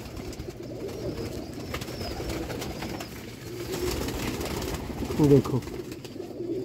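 Pigeons coo softly in a loft, low murmuring calls beneath someone talking, with a slightly louder coo near the end.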